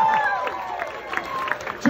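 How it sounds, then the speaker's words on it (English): A comedy club crowd at Levity Live in Oxnard applauds and cheers, a lively wash of clapping with whoops and scattered voices over it, steady and fairly loud throughout. "Folks, a round of applause for a crew I know as Sausage Party!"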